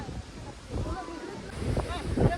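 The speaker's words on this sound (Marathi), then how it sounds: "शंभर वारा सुटला हे बघ किती वारा" Strong gusts of wind buffet the microphone in a rumbling, uneven rush on open farmland, while people talk over it.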